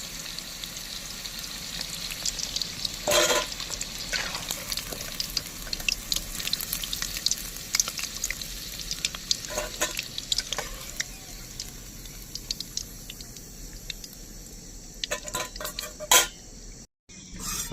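Pakoras deep-frying in hot oil in a village-style kitchen, a steady crackling sizzle with occasional sharper clatters of utensils against the pan, continuing without speech.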